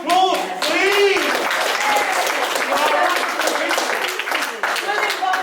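An audience applauding volunteers, a loud, sustained burst of clapping from a crowd with cheers and voices calling out over it throughout.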